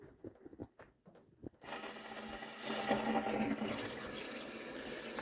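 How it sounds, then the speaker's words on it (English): Cold water runs from a tankless water heater's service valve into a bucket, a steady broadband rush that starts abruptly after a few faint knocks and continues loud to the end. "You're gonna crack this valve open the cold here first to fill up your bucket."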